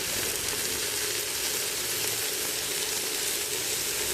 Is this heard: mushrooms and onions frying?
yes